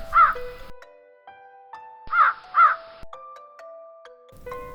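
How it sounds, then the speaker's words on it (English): A crow caws several times as a sound effect in a children's story, with harsh calls in short bursts over a background of soft, sustained musical tones. "there was a thirsty crow"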